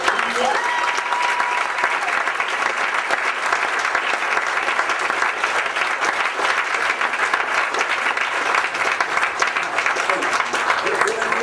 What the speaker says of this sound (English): all this applause is for the wonderful job.